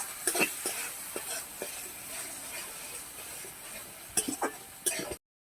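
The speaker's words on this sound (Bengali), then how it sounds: "দু চামচের মতন আদা বাটা দিয়ে দিলাম ভালো করে আর একটু কষে নেব" Ginger paste and spices sizzle softly in a pan, and a spoon stirs and scrapes in scattered close clinks. The frying stays low and steady, and the sound cuts off at the end.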